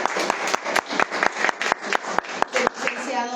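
Applause at a cultural event in Zacatecas: a modest group claps with distinct, fairly spaced individual claps in an uneven rhythm that builds and thins over a few seconds.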